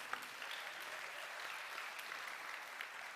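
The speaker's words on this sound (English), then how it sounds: "let's give these guys a big round of applause" A lunchtime audience at a conference gives a faint, distant round of applause, a soft continuous patter of many hands with no clear individual claps.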